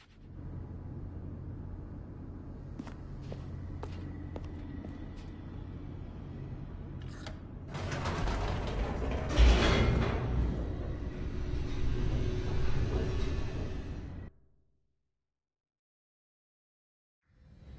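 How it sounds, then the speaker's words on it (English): A descending elevator in The Stanley Parable video game: a steady low mechanical hum that swells into a louder rushing rumble for several seconds, then cuts abruptly to silence. "The elevator raced downward"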